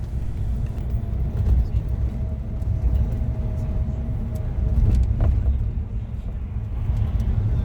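A bus travels a dark highway near Penco in Chile, with a steady low engine and road rumble heard from inside the cabin and occasional faint knocks and rattles, with no talk.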